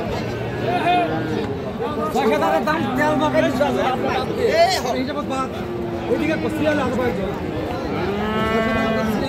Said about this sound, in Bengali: একটা ক্রোজ জাতের সার বাছুর কিন্তু।